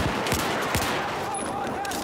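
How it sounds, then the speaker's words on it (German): Gunfire in the video game Battlefield 4, several sharp shots cracking over a dense, noisy battlefield backdrop, with a few distinct bursts early on. "Na gut, das sind zwei Schüsse."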